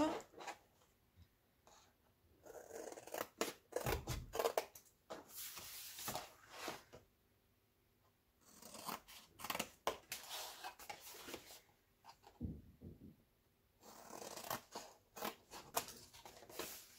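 Paper being cut with scissors, a series of soft, close snips and rustles in separate bursts with quiet pauses between them, with no talking.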